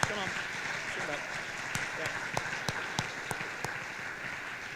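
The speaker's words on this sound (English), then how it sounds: "If you could just stand real quick and get a round of applause" Applause for seniors at a high school fall sports awards ceremony, a steady wash of clapping from a room, fairly distant and even, with a few sharper individual claps standing out and faint talk underneath.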